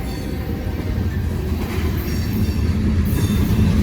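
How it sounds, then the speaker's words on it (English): A long train passes close by a railroad signal, its loud steady rumble and rolling wheel noise continuing throughout without a break. "That's the train passed the signal."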